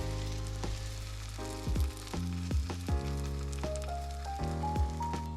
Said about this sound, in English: in a preheated skillet, we're going to add a knob of butter, and you'll hear it sizzle.